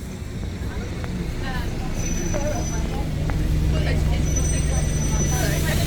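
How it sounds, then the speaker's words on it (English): London bus on route 533 pulling up at a stop: a low engine rumble with air-brake hiss and squeals over steady street traffic, growing slightly louder as it arrives, while people talk nearby. "The bus is here."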